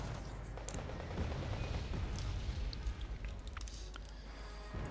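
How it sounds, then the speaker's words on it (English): Mortar and gunfire in Wargame Red Dragon, a modern tank-battle strategy game: a dense, rumbling barrage of distant booms and crackling shots that runs continuously, with brief sharper cracks on top. "He's being met by some mortar fire again"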